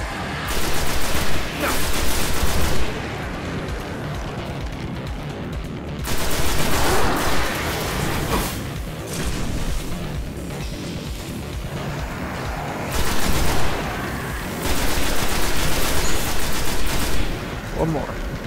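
Bursts of automatic weapon fire in the sci-fi shooter Destiny, loud sustained volleys of a few seconds each, separated by quieter stretches of game ambience, with a person talking over parts of it.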